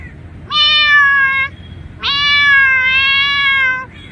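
A person mimics cats fighting over meat, giving two long, loud, wavering yowls, the second stretched and rising, close and alone.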